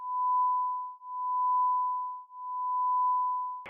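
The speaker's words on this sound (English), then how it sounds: "Sorry, the phone rang." A steady electronic telephone tone sounds in three long, even pulses separated by short gaps, clear and alone, cut off abruptly at the end.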